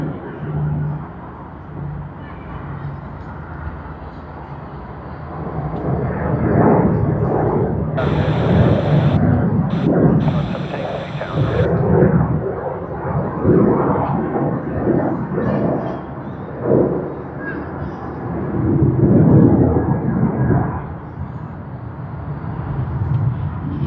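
An airliner in a special Pokemon livery at Sydney Airport, its jet engines giving a loud, broad roar that swells and rumbles through the whole stretch, with a brief high tone partway through.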